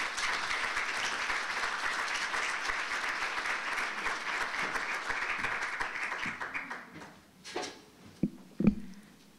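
A conference audience applauds to welcome a speaker, sustained clapping that fades out over several seconds, leaving a few scattered claps and thumps at the end.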